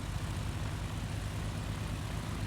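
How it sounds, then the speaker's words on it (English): Twin piston engines of a simulated BN-2 Islander idle after startup in Microsoft Flight Simulator 2020, a steady low droning rumble with rhythmic propeller throb, loud and continuous with no speech. "it gets loud when the engines are running"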